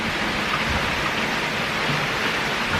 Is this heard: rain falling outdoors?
yes